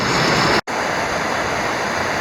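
Steady, loud roar of water rushing over a waterfall where shoal bass are fished, a dense unbroken wash of noise with one momentary dropout near the start.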